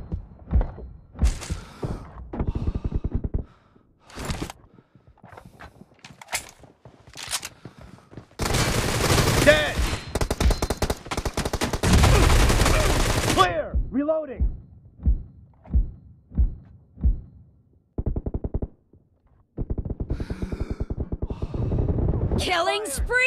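Gunfire in the PUBG Mobile video game: loud close shots, single and in rapid bursts, with a sustained heavy barrage in the middle, over in-game voice callouts.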